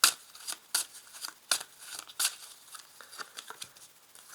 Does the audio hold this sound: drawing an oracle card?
yes